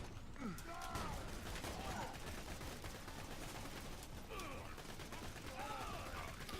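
In the video game Borderlands 2, weapons fire at the Warden in rapid repeated volleys with mechanical reload clicks, set in a dense, busy game soundscape under a voice.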